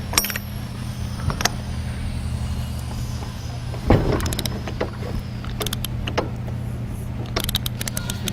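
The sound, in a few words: engine compression as the crankshaft is turned by hand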